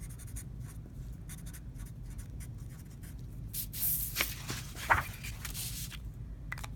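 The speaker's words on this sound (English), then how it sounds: "make sure that you write your name on your background paper." Pen or pencil scratching across background paper as a name is written during a woven paper house craft, soft irregular strokes close by and fairly quiet, with faint taps and rustles.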